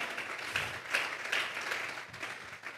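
A church congregation claps hands together in a sustained burst of applause, a dense wash of overlapping claps with no talking.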